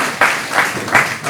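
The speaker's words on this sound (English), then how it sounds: "Let's give group 5 a round of applause." Short burst of applause for a group at a city parks and recreation master plan workshop in West Covina; a small room's scattered clapping swells in a few quick waves over barely a second.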